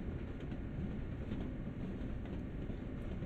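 Train rumbles steadily along the Northeast Corridor in Train Sim World, a low continuous roll with faint rhythmic clicks, heard from the cab at a soft, even level.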